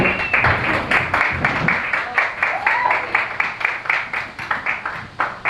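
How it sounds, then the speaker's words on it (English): Studio audience clapping for a woman comedian at a Brooklyn stand-up show, a dense, steady patter of many hands lasting several seconds, fairly close and without speech. "Please give her a big round of applause"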